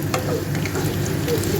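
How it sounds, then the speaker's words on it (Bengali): Sweet potato pieces fry in oil in a pan, a dense, steady sizzle heard close up without any voices. "রাঙা আলুগুলো আমি একটু এর সাথে ভেজে নেব"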